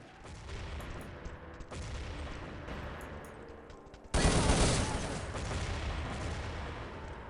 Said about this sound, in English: So many nades falling in 1 second.